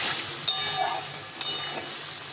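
Spice paste sizzles in a pan for a fish curry, a steady frying hiss with a couple of sharp crackles as it is stirred.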